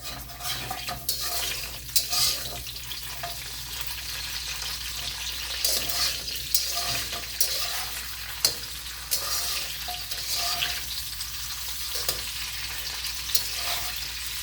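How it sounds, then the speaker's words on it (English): A spatula stirs food in a sizzling frying pan, steady frying hiss broken by repeated scraping and clattering strokes of varying strength. "Well, I am going to give a spatula and stir those up here and there."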